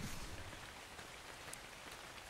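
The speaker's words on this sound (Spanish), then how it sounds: "Mira, justo está lloviendo ahora." Rain falls in Ark Survival Evolved as a dense, even patter on surfaces, a constant soft hiss with no voices.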